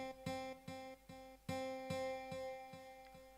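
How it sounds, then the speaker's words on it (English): A sampled mallet guitar plays a run of bright plucked notes in a bouncy, irregular rhythm, each note ringing briefly and cleanly with no other sound. "the sample was this mallet guitar"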